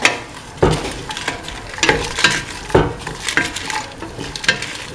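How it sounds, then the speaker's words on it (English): Kidney beans being sautéed and stirred into a stew mixture in a pan, with a soft sizzle under repeated scraping, clinking strokes of a spoon against the pan at an uneven rhythm, close and fairly loud. "Thoroughly saute and mix the kidney beans with the rest of the mixture."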